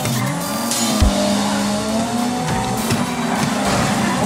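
Go-kart engines drone steadily on a race track in GTA 5, with tire squeal and skidding as karts corner close by, one sharp thump partway through, no talk.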